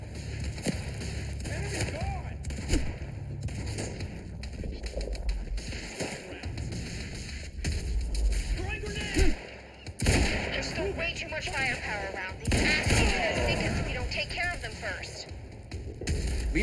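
Gunfire in the Quantum Break video game, rapid bursts of shots and booming impacts spread through a busy battle mix, with voices talking over the action and brief lulls between volleys.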